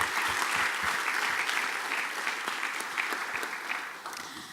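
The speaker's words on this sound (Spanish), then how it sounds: "Un aplauso para ellos porque realmente el evento es de ellos." Dense, steady applause from an audience closing out a Spanish-language event, the clapping filling the space at moderate loudness and tapering slightly near the end, with no voices heard over it.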